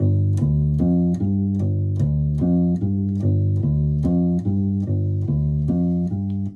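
Electric bass plays a repeating blues pattern, a steady walking riff of plucked notes cycling through the same figure several times, clear and upfront.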